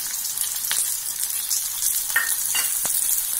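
Four onions sizzling in about four spoons of hot oil in a pan for an Indian egg masala, a steady bright crackling hiss with scattered sharper pops throughout, close and alone without talk.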